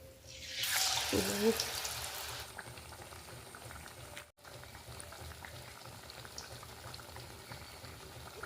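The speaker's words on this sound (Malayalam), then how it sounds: "നമുക്ക് ഓരോന്നും എടുത്ത് എണ്ണയിലോട്ട് ഇട്ട് കൊടുക്കാവേ" Steady bubbling sizzle of banana fritters frying in hot oil, with a louder burst of crackling near the start that settles into a constant hiss.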